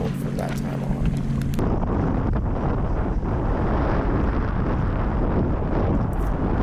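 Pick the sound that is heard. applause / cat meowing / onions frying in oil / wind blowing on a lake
wind blowing on a lake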